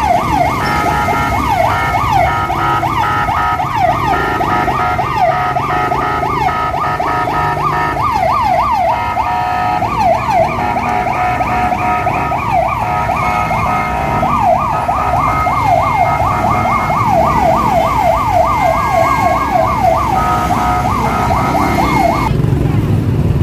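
An ambulance siren wails in a rapid, continuous up-and-down pattern through a crowded seafood market in Malabon, loud and steady over the murmur of a busy crowd for about twenty seconds.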